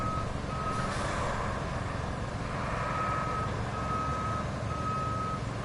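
Steady, evenly spaced reversing beeps from a truck in the video game Roadcraft over a constant low engine rumble, with no talking.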